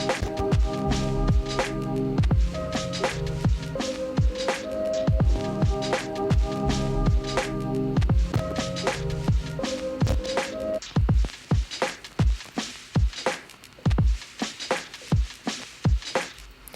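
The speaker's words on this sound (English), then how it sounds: "today we're going to be learning how to make some drums that kind of sound like this." A lo-fi hip-hop drum beat with swing: crisp, loose-timed hits pulse over warm sustained chords for the first stretch, then the drums carry on nearly alone, punchy and steady, with no talking.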